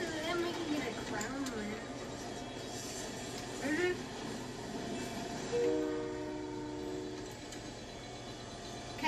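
A train in a video game rumbles and clatters along under ongoing talk. A loud, sustained horn blast sounds partway through before the rolling noise carries on.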